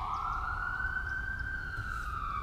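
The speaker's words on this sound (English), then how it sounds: "I had to stop because there's more ambulances and fire trucks" Wailing sirens of passing ambulances and fire trucks, one clear sweeping tone rising and holding, moderately distant with a low road rumble underneath and no talking.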